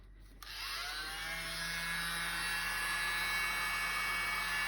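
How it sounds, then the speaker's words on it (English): A small electric blower whines steadily at a high pitch after a brief quiet start, loud and close, with no voices. "I'm going to use my little blower."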